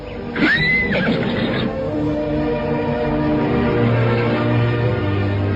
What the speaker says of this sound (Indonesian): Arya Kamandanu duduk di atas punggung kuda, sementara Sakawuni menuntun binatang itu berjalan di sela-sela batu-batuan.